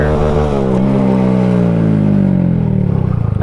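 Motorcycle engine revving hard and steady while the rider holds a wheelie, a loud close continuous drone whose pitch sinks slowly before picking up near the end.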